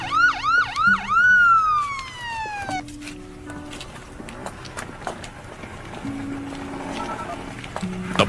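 A police car siren in a Tagalog-dubbed movie wails loudly in rising and falling sweeps, then fades quickly into quieter street sounds with scattered knocks.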